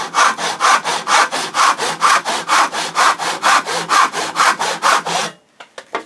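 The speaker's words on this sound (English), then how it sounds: "And we continue sawing" Rhythmic strokes of a hand saw cutting wood, about a dozen even rasping back-and-forth pulls up close, then stopping with a few faint clicks.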